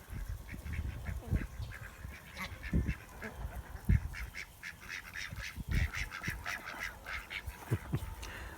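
Domestic ducks and geese ranging outdoors in the rain give repeated quacks and honks, some close and loud, others softer in the background, with irregular overlapping calls.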